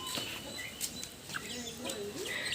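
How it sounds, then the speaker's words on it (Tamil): Chickens at a bird park entrance in Yelagiri give repeated short clucks and squawks at close to mid range, with a few higher bird chirps mixed in. "இதுதான் நம்ம ஊர் சிக்கன்."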